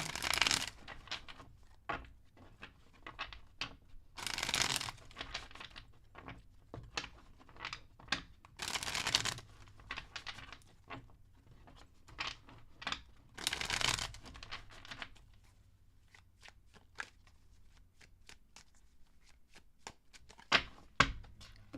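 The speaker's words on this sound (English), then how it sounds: "let me shuffle these real quick" Tarot cards being shuffled, with repeated bursts of riffling and flicking separated by brief pauses and a few sharp card snaps near the end, close and fairly quiet with no talking.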